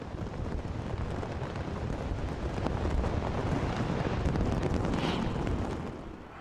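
New Year fireworks bursting over Sydney Harbour Bridge, heard as a dense, continuous rumble of booms and crackles from a distance, swelling slightly toward the middle and holding steady without any voices.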